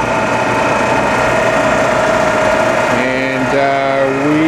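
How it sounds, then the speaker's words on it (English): Coolant pump on a Cincinnati #6 Dual Power vertical mill hums steadily and loudly throughout, with machine drone and a shifting motor tone joining near the end. "There's the coolant pump."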